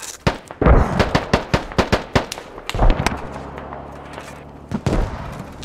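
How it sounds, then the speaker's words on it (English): Explosions and bursts in the tactical shooter game Squad, with mortar fire around a forward base: a rapid string of about a dozen sharp, loud blasts, then a heavier boom and a low rumble, with a few more blasts near the end. "What just blew up?"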